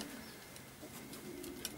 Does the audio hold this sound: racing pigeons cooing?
yes